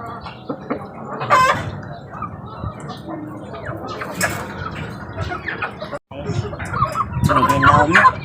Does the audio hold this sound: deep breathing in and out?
no